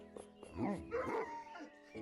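Goofy woofs and yips from a dog in Minecraft, a few short barks rising and falling over about two seconds, fairly soft and close, with no talk.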